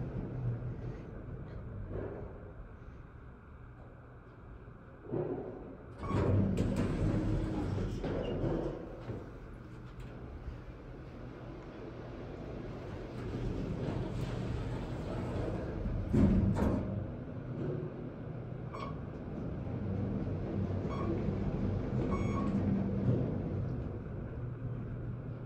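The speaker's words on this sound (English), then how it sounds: "It's just an elevator." A Kone high speed elevator at the Golden Nugget casino hotel in Lake Charles rumbles in a low, steady hum while riding, with a door-like slide and a couple of clunks along the way.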